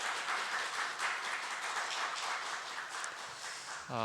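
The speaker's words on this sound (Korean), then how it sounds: "우리 환영의 박수 한번 부탁드리겠습니다" Steady applause from a church congregation at a Friday service fills the room, a dense even patter of many hands clapping at moderate volume.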